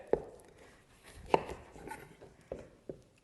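A knife chops through butternut squash on a board, four sharp separate cuts spread unevenly, close and fairly loud with no talk.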